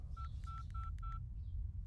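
A phone number is being dialed. About six short touch-tone beeps in an uneven sequence sound over a steady low rumble, with no talking.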